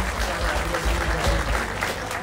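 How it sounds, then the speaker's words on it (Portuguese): A crowd at a live talent show during a village festival claps loudly and continuously, a dense, close wall of applause with no pause. "Uma grande salva de palmas para vocês e também para aqui para o Ricardo Anjinho."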